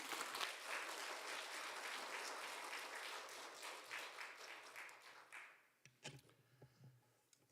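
A church congregation applauds steadily for several seconds at an early-morning prayer meeting, then the clapping thins out into a few scattered claps.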